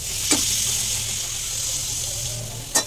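Ground masala water goes into a pan of frying prawns, giving a soft continuous sizzle and hiss with two brief sharp knocks of a utensil at the start and end.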